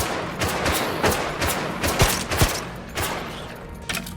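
Rapid volleys of arrows or projectiles from Minecraft mobs striking a player's shield in the video game, a dense run of sharp repeated cracks and thumps over a steady game background, with no speech.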